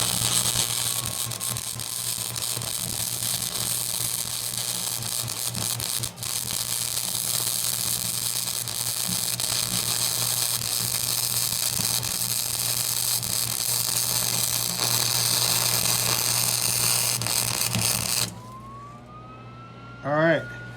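A Lincoln Weld-Pak 125 wire-feed welder runs a bead. It gives a steady, loud crackling buzz that holds for about eighteen seconds and then cuts off abruptly into near silence.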